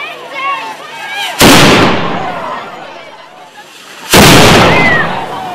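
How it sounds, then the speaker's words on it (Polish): Ceremonial artillery cannon firing at a Museum Night event: two loud booming blasts a few seconds apart, each with a long rumbling decay, heard outdoors over crowd noise. "I rozpoczniemy wystrzałem z artylerii."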